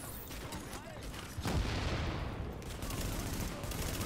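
Grenade blast and gunfire in The Division video game, a sudden boom followed by a dense, continuous rattle of shots filling the scene, with a voice talking underneath.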